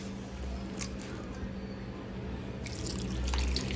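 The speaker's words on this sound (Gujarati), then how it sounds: "હવે આપણે પાણી ઉમેરવાનું છે. રેગ્યુલર જ પાણી લીધું છે." Regular room-temperature water is poured into a bowl of handvo batter, giving a faint, continuous trickling and splashing that grows slightly louder toward the end, with no voice over it.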